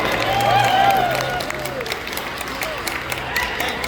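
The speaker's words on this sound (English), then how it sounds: "Let's have another round of applause for the Warriors from Samoa." Crowd applause and cheering for the Samoan Warriors sevens rugby group at the opening of the Pasifika Fale in Kirikiriroa, a steady outdoor spread of clapping with voices and a high whoop mixed in.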